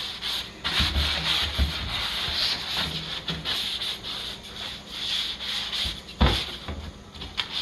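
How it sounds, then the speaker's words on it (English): Hand sanding of wooden kitchen cabinets with a coarse pad: steady, close rasping strokes, continuous scratchy friction with a few heavier thumps. "I bought a sanding pad which has coarse, coarse surface, so I can just sand it like this."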